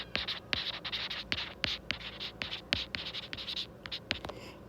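Pen strokes scratch across paper in quick, irregular bursts while figures are jotted down, close and crisp with short pauses between marks.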